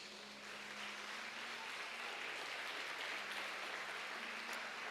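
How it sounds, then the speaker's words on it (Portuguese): A church congregation applauds steadily, a faint, continuous wash of many hands clapping at a distance with no distinct individual claps standing out. "Aqueles que podem, aplaudam a Jesus."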